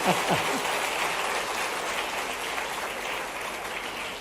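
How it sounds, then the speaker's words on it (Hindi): An audience at a government event in Bhopal claps together, a dense, even patter of applause sustained at moderate loudness for several seconds. "ताली वाली बजा के बताओ अगर पसंद आया तो बात है।"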